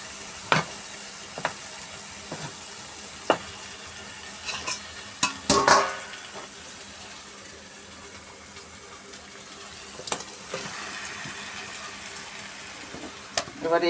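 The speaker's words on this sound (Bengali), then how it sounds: "এবার চিকেনটা দিয়ে দেবো।" Spice masala frying in a pan just as chicken goes in, with a low sizzle under sharp clattering stirs and scrapes, one busy burst of clatter midway, and some background noise.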